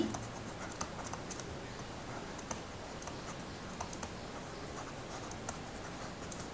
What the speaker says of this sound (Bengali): তাহলে যে আমি এখানে লিখে নিই